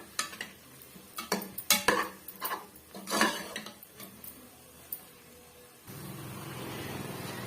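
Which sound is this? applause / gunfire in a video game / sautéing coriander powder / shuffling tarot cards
sautéing coriander powder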